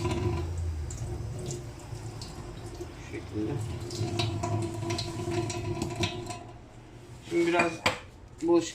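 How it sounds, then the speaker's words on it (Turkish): A sponge scrubs and rubs around a burnt metal teakettle, with dishes clinking and water dripping, and a voice speaking intermittently. "Güzelce süngerle etrafını temizliyoruz."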